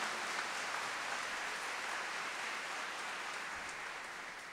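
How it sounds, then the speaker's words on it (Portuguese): Thin, sparse applause from a church audience at a Catholic talk, a steady faint patter of scattered hands with no distinct voices. "Percebi que os aplausos foram poucos"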